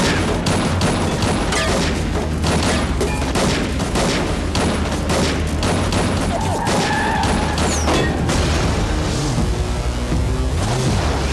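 Sustained gunfire from a Telugu film scene after an order to shoot, dense bursts and booms layered with music and effects, loud and continuous for most of the clip before thinning out.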